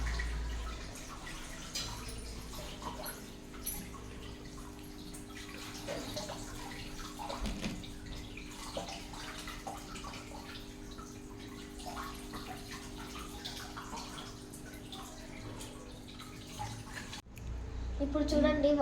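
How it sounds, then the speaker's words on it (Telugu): Water pours steadily through a pipe into a fish aquarium being refilled after cleaning, a soft, continuous splashing gush heard close but quietly, with faint voices now and then. "ఇప్పుడు వాటర్ ఫిల్ చేస్తున్నాం."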